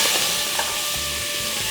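Onions, carrots, celery and garlic being stirred in a hot pot for braised beef short ribs, a steady close sizzle and hiss with soft scraping stir sounds throughout.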